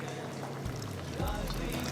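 Beef stock water is poured into a cooking pot with a steady liquid rush that swells toward the end, under a faint background murmur.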